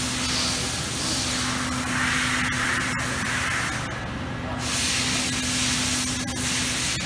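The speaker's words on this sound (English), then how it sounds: "Just gonna do two quick lines of weld." Panasonic PerformArc robotic TIG welding system laying a quick weld bead inside a robotic cell, giving a steady loud broadband hiss with a constant hum throughout, brief dips near the middle.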